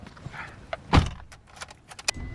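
Car door and handling sounds as a character exits a vehicle in the video game The Experiment, with a sharp door thud near the middle, soft clicks and shuffles around it.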